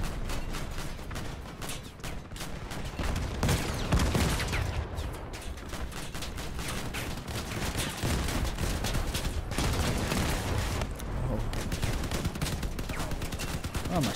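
Shotguns blasting in Crossout, the vehicle-combat game, during a community-build battle: dense, continuous loud bursts of gunfire and fusillade with booming impacts filling the whole stretch.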